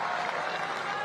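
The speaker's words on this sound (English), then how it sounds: "Listen to the cheer." Crowd of supporters cheering and applauding at a pickleball pro singles final in India, a dense continuous roar of claps and cheers filling the short moment.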